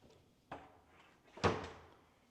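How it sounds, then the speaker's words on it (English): Kitchen cabinet drawers in a luxury villa being pulled out, two distinct sliding thumps about a second apart, the second louder, in a quiet room with no talking. "pull out drawers too."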